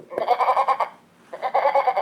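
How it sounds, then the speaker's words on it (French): Two electronic goat bleats from the board game Qui l'a vu sound loud and close, each a wavering nasal cry with a short pause between them. "je vais faire parler la chèvre"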